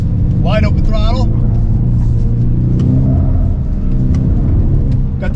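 A 2024 Ford Mustang S650 engine at wide open throttle, a loud, close, low roaring drone that rises in pitch through the run, with a voice talking over it early on.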